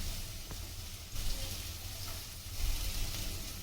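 Chopped garlic and ginger frying in oil in a pan for mutton curry, a steady close sizzle with a few louder surges as it is stirred, no voices.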